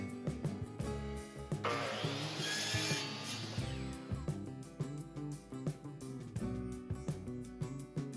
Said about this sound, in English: Now you just cut the first miter